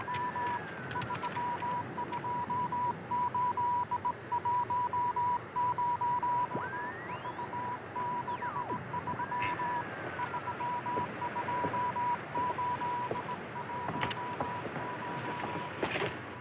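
Incoming radiogram signal in a 1953 film: a steady, high-pitched beeping tone sounds in long and short bursts with brief breaks, over a hissing, crackly radio background for about sixteen seconds.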